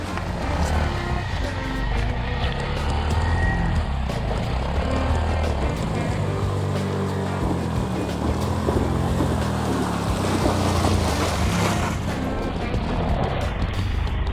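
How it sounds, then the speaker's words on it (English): A small Honda Monkey motorcycle churns through a deep water crossing on a Colorado mountain trail, its engine droning steadily beneath a loud rushing wash of splashing water and wind noise that continues throughout. "that was a pretty deep water crossing for this little bike"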